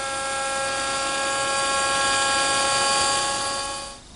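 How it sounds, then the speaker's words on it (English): A router fitted with a dovetailing bit runs at a router station, its high, steady motor whine holding constant and near for several seconds before winding down at the end. "Here at my router station, I've installed the same dovetailing bit I used to make the socket."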